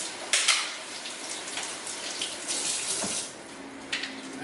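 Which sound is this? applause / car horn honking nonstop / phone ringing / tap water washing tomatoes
tap water washing tomatoes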